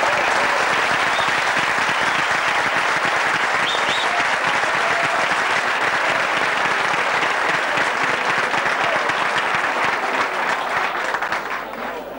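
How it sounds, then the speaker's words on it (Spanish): A dense, loud round of applause fills the room at a dinner inaugurating a Real Madrid supporters' club in Santa Margalida, Mallorca. The clapping stays sustained for about twelve seconds before easing off at the end. "Para él pido un fuerte aplauso."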